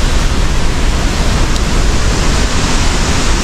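Salto de Candela, one of Colombia's tallest waterfalls in Boyacá, roars as a steady, loud, broad rush of falling water, constant and enveloping with no pauses and no voices.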